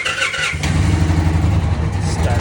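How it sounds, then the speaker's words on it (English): Motorcycle fitted with a Dr. Jekill & Mr. Hyde exhaust, just repaired with a new actuator motor, starting up and settling into a loud, steady idle rumble close by. "turn the bike back on."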